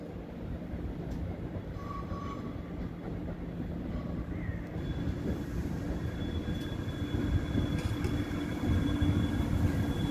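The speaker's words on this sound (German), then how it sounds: "Erstmal sehen wir den RE nach Stuttgart ausfahren." A DB Regio regional express train pulls out of the station bound for Stuttgart, a low rolling rumble that builds gradually and grows louder toward the end, with a faint high tone and brief squeal above it.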